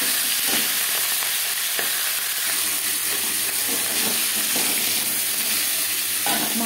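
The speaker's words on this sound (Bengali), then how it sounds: "8 টুকরো মাছের মাথা হয়েছে। একটা সাইজ ভাজা হয়ে গেলে অপর সাইজটা উল্টে দেবো।" Eight pieces of fish head fry in hot oil in a kadai, producing a loud, continuous sizzle with bursts of spitting and crackle and occasional scraping clinks, with no talking.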